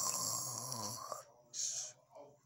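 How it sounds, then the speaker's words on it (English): A big, loud snore rasps out in one long drawn breath, followed by a short airy exhale and a softer snort, set in a cartoon scene. "Wow, that is some snore."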